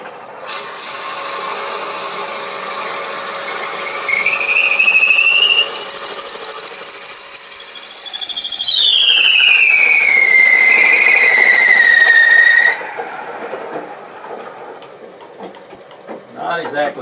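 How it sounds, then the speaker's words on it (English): Drill bit in a Jacob's chuck boring a through hole in wood on a lathe at around 500-600 rpm, a loud rising-and-falling squeal over a steady motor hum, ending with quieter rattling. "Let's drill that hole first. I'm going to get the speed up to 500, 600, holding the hand on the Jacob's chuck."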